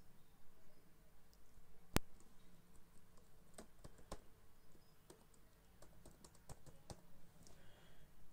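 A password is typed on a computer keyboard: a sharp click, then a run of light, uneven key taps close by in a quiet room.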